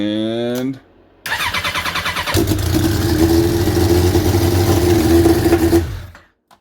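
A motorcycle engine coughs, turns over and fires up after a carburetor clean-out, then settles into a loud, steady idle for a few seconds before being shut off. A voice is heard briefly at the start.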